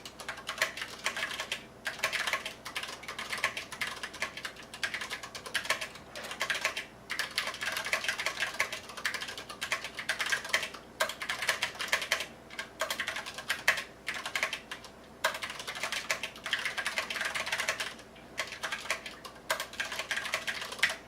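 Continuous fast typing on a Mistel Barocco MD600 split mechanical keyboard with Cherry MX Brown switches: close, dense clacking keystrokes in steady bursts with brief pauses, no voices.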